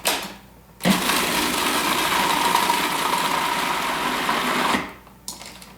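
Electric mixer whirring steadily as it blends smoked salmon cheesecake filling, a close, even buzzing drone for about four seconds that starts and stops abruptly, with no talk.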